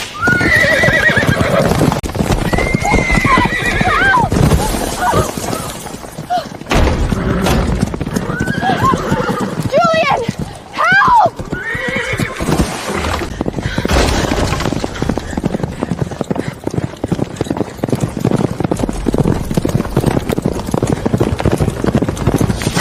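Two horses colliding: loud galloping hooves and repeated horse whinnies, punctuated by crashing, breaking impacts in a chaotic, sustained commotion.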